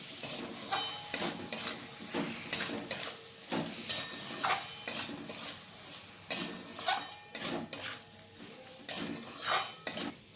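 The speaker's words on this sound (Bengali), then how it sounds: "এরপর আবার আমি ভালো করে মিক্স করে নিচ্ছি" Ground mustard paste stirred into raw mango chutney in a pan: repeated metal spoon scrapes and clanks against the pan in an irregular rhythm, close by, over a soft sizzle.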